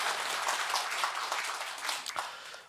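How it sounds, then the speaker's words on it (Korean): Congregation applauding during a Sunday morning church service, a steady wash of clapping from many hands that fills the room for a few seconds and then starts to thin out. "하나님께 영광의 박수 올려드리겠습니다"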